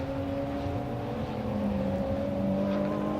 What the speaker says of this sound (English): We're about to find out as he accelerates through. He crosses the start and finish line now.